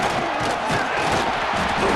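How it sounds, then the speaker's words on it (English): Stadium crowd roaring in the EA Sports College Football 26 video game, a dense, steady wall of cheering and yelling that stays loud and continuous throughout, with no clear breaks. "Listen to this crowd just shaking the girders of this place, trying to help their defense."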